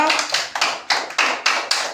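A group of children clap their hands in a steady rhythm, about eight crisp, evenly spaced claps, loud and close, with no talking.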